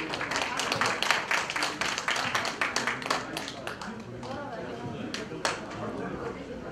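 Loud, steady rhythmic clapping from a seated audience at a year-end mountaineering club gathering, dense at first and thinning into scattered claps with a few louder single claps near the end.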